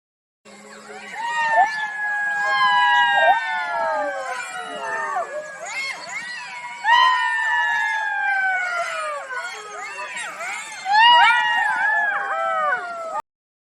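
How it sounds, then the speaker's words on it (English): A fox gives a series of high, wavering yips and soft barks. The calls come in sliding, overlapping bursts, fairly close and clear, with several louder cries spread through. "The fox has a unique sound. It goes, yip yip, or a soft bark."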